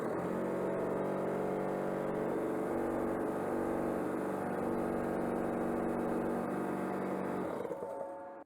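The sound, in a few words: air compressor running on a 2000W inverter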